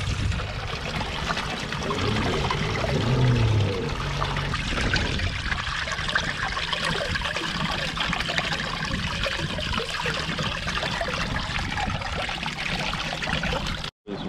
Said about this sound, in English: I'm going to try and open the bungs out and let some of the water out while I pull it up.